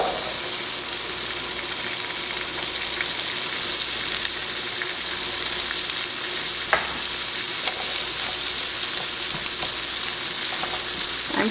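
Onions frying in butter in a pan, a steady close sizzle with occasional clicks and pops from stirring, unbroken throughout and with no one speaking.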